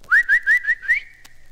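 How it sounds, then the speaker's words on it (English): A man whistles to call a dog at a dog show, giving five quick rising, sliding notes followed by a long steady tone, loud and close with no talking. "every time I whistle like a feller whistling for his dog"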